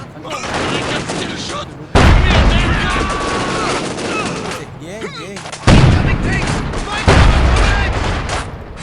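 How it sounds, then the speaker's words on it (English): An anti-tank gun fires in Company of Heroes 2 during the Stalingrad rail station mission. Heavy booming shots land in three loud blasts amid ongoing battle noise, with shouted unit voices mixed in. "Anti-tank gun will open fire!"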